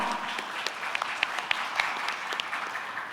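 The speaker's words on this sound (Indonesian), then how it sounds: "kita berikan tepuk tangan untuk para pasangan calon" Audience applause for the candidate pairs at a public debate for governor and vice governor in Sulawesi, a moderate wash of clapping with a few sharper individual claps standing out, fairly distant.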